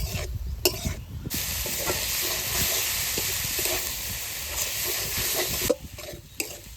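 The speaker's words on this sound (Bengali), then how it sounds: "শাক ভাজা হয়ে গেছে এবার নামিয়ে নেবো" Leafy greens fry in a wok with salt and turmeric, sizzling continuously while a spatula scrapes and stirs in irregular strokes close by.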